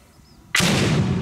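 LG 440 40mm grenade launcher firing an exploding round, a quiet lead-in broken by one sudden loud blast that rings on with a sustained roar to the end.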